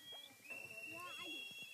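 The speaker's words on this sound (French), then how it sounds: "le son glaçant des sifflets de gilets de sauvetage." Life jacket whistles shrill high and steady at sea in darkness between Turkey and Greece, several overlapping tones sustained throughout, with indistinct voices and commotion underneath.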